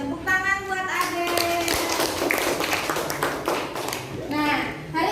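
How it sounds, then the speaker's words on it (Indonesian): Classroom applause for a student: a burst of clapping from a group of pupils, busy and steady through the middle, with children's voices at the start and end. "Tepuk tangan buat Ade."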